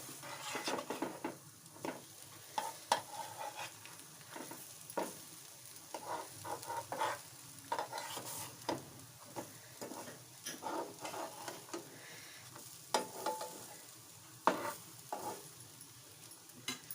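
Eggplant slices fry on a low gas flame in a pan with a soft, quiet sizzle, punctuated by frequent light spatula taps and scrapes against the metal as the pieces are turned.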